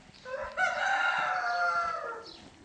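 A rooster in a backyard flock of roughly forty chickens and roosters lets out a single drawn-out crow, clear and fairly close, with faint farmyard noise beneath.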